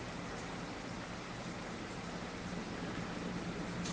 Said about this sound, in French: j'enregistre en pleine nature. C'est pourquoi tu entends la pluie aussi.